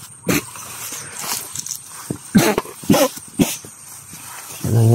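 A dog outdoors gives several short, sharp barks and yips in an irregular burst, fairly close, with some background noise between them.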